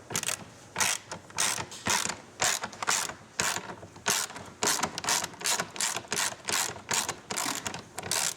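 Quick bursts of ratchet-wrench clicking repeat in a steady rhythm as bolts come out of the trunk hinge on a Victory Cross motorcycle, crisp and close with short pauses between strokes.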